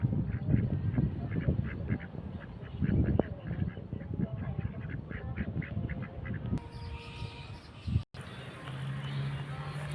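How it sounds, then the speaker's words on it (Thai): Ducks quack repeatedly in a noisy flock nearby, overlapping calls with a person talking partway through. "เจอแต่เป็ดนะครับ"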